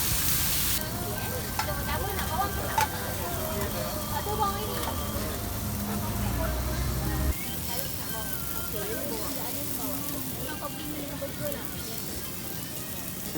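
Smash burger patty and onions sizzle steadily on a hot flat griddle, a dense continuous hiss that runs the whole time with people talking over it.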